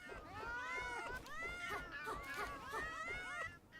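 Repeated high-pitched meowing from Meow Mirror, a cat-like creature in Palworld, comes in quick overlapping bursts with a slightly whiny, crying tone, close and continuous until it fades out at the end.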